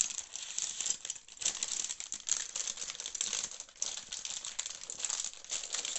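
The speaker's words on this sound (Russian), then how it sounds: "Открываем пакетик." Crinkly plastic rustles and crackles steadily as a LEGO parts packet is handled and torn open, close up with no talking.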